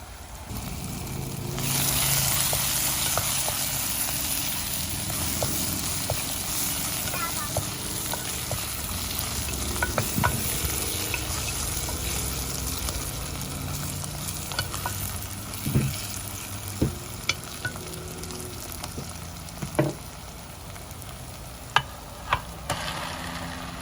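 Beef sizzles and fries steadily in a pan while being stirred, with a continuous hiss broken by sharp scraping clicks from the stirring utensil that grow more frequent near the end; a faint voice is heard in the background.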